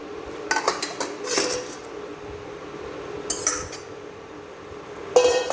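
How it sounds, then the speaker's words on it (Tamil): Mutton intestines stirred with ginger-garlic paste in a pressure cooker, the spoon clanking and scraping against the metal pot in a few sharp bursts separated by quieter sizzling pauses. "இது ஒரு கிளறி விட்டுலாமுங்க"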